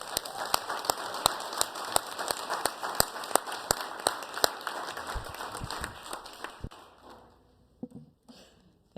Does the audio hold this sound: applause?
yes